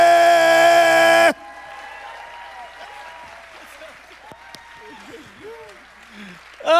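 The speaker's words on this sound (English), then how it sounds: "Give it up for my friend, Mr. Bob Smiley!" A comedy club audience claps and cheers loudly for a comedian walking on stage, a dense burst that cuts off abruptly after about a second, followed by faint room murmur and scattered voices.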